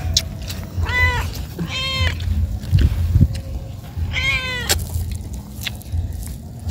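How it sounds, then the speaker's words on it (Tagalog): A cat meows three times in clear, drawn-out calls, close by, during a street food grilling meal in a cemetery, over low background rumble and murmur. "May pusa pa kaming kasama."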